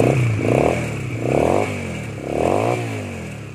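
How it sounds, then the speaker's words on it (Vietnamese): A 2012 Honda Rebel motorcycle engine runs close by, revving up in three repeated throttle blips over a steady idle, each rise and fall clearly audible. "Nghe tiếng máy nổ là biết chất lượng rồi, quá hay luôn."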